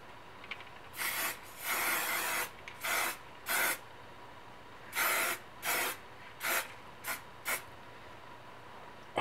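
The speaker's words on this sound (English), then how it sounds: "I am going to spray this with hairspray to set it" Hairspray is sprayed in a series of short hissing bursts onto an oil pastel art journal page, about nine close spurts of varying length separated by brief pauses, with no talking.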